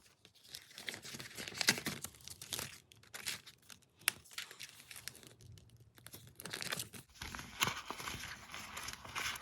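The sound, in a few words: handling cash and paper budget envelopes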